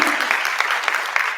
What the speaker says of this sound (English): Let's all clap for them.